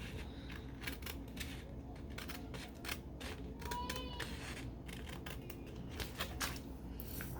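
Scissors snipping paper in a planner, a quick series of sharp, close cuts and rustles, fairly quiet.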